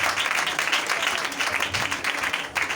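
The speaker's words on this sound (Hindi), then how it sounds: "खुदा यीशु के लिए जोरदार तालियां बजा दीजिए।" A church congregation applauds with a lively, fairly soft patter of many hands that continues for a few seconds, and faint voices sit in the background.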